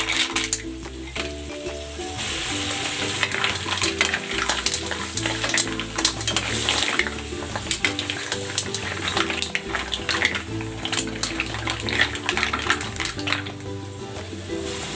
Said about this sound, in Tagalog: Ilalagay ko na itong hipon. At ang tahong.